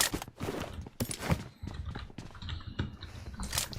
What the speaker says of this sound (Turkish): Yine ayak sesi var.